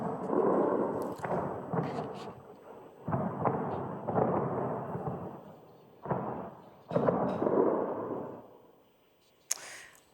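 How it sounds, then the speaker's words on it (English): Explosions from Israeli airstrikes on Tehran boom in several heavy rumbling bursts, some distant and rolling, with gaps of near silence between the blasts. "this is the sound of explosions heard in the early hours in Tehran"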